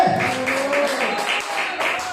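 During a Bible seminar, a congregation applauds with rhythmic clapping in clustered bursts over a lingering sustained tone, moderately loud and close.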